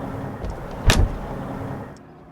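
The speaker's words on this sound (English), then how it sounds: "keep the old school bank vault doors, which are the nicest shutting in the entire auto industry" The heavy door of a Mercedes G-Wagon shuts once with a solid, close thunk in the middle, over a low steady hum and with no voices.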